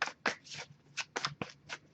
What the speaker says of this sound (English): I'll give it a couple more shuffles.